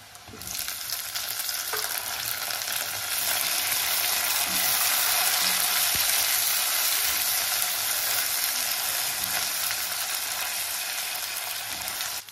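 A large chopped tomato goes into a hot frying pan with garlic and fenugreek greens and sizzles loudly and steadily up close, with faint utensil taps underneath.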